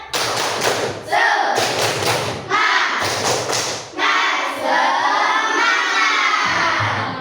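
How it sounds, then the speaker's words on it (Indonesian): A class of children performs a rhythmic spirit clapping chant: short bursts of unison claps and shouts with brief pauses, then a longer stretch of clapping and shouted chanting. It is loud and close. "mari kita melakukan tepuk semangat"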